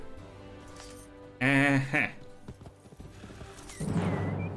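A fell horse in the video game Age of Wonders 3 neighs loudly in a short whinny, with clip-clopping hooves and clinking effects around it, then a burst of noisy rumble.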